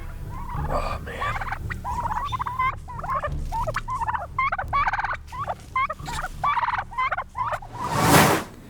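A flock of turkeys, raised from mail-order hatchery poults and about twenty weeks old, gobbles in a rapid run of warbling calls, close and fairly loud, with a sharp rustling noise at the end.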